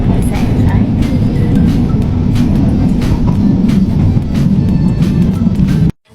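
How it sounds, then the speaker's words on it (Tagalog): Interior of a moving LRT light rail train gives a loud, steady low rumble with periodic rhythmic clicks, ending abruptly; no clear talk stands out. "Nandito na po kami sa LRT."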